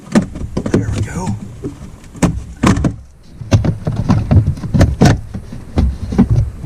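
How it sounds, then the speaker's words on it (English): A plastic battery cover on a Porsche Cayenne is lifted and slid back, giving a series of sharp clicks, knocks and scraping rattles up close, with a voice talking in between. "lift the back up and slide it toward the back of the vehicle"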